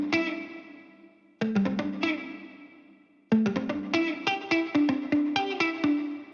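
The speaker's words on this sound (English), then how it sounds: "I'm using the clean R&B preset played with the muted articulation" Muted clean guitar from a Kontakt sample library with an R&B preset, playing short choked strums in a steady groove with a brief pause, then denser rhythmic chops, each stroke sharp and dry with a ringing low note beneath.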